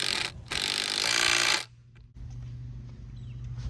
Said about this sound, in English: Pre-drill the holes with a 1/4 inch drill bit and then use the impact driver to drive in the fasteners.